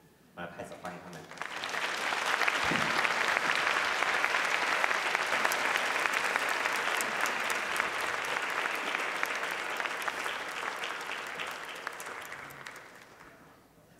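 Sustained audience applause at a church Christmas opera, welcoming five performers onto the stage; broad, steady clapping fills the room for roughly twelve seconds before fading, with faint voices at the edges.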